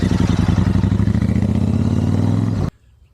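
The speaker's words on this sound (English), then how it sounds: "the Interceptor has a much deeper, throatier noise to it" Royal Enfield Interceptor 650 motorcycle engine running close by with a deep, throaty low-pitched drone and rhythmic exhaust pulses, holding steady for about two and a half seconds before cutting off abruptly into near silence.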